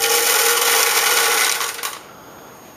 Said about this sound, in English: I'm going to shaky shaky shake BBs